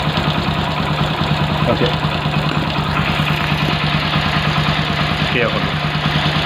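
A motorcycle engine idles steadily during carburetor air-screw adjustment after cleaning, a loud, constant low hum with faint knocking, while someone speaks briefly over it.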